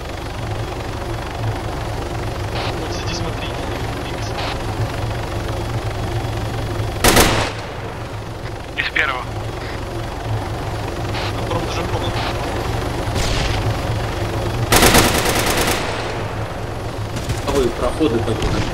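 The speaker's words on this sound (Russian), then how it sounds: "Вы вертолет уронили на крышу" In the ArmA 3 video game, a helicopter crashes onto a roof amid a steady rotor drone, punctuated by several sharp impact bursts and gunfire-like cracks, with voices talking in the background.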